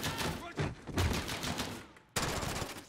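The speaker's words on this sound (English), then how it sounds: "The gunshots, of course." Gunfire in the Call of Duty: Modern Warfare campaign mission Old Comrades: dense, loud bursts of automatic shots rattle almost continuously, with a brief gap before another burst, and a voice talks faintly beneath.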